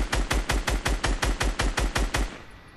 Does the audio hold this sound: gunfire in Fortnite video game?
yes